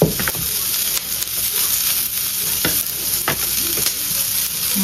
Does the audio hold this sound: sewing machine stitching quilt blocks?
no